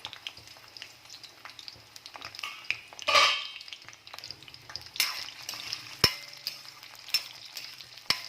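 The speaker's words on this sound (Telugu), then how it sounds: "మసాలా దొండకాయ చేస్తున్నాను. ఫ్రై కావాలి అవి." Masala-coated ivy gourd fries in hot oil, a steady close sizzle broken by scraping stirs and clinks of a spatula against the pan, with no voices.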